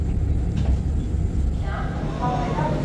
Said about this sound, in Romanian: ăsta e trenul acela care vine de la Mangalia plus prin Dej